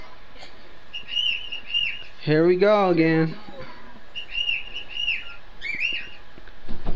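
A pet bird's bright whistled calls come in short repeated bursts, with a voice breaking in midway before the calls resume near and clear.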